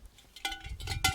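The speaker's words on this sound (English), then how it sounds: "Berta here, she's carrying a very pretty bell." A pretty bell worn by a cow named Berta at an old barn clanks faintly two or three times, each strike ringing briefly with a bright metallic tone.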